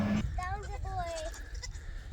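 Goats outside on a farm bleat in a short wavering call, preceded by a brief low sound; fairly close and moderately faint, with a voice nearby.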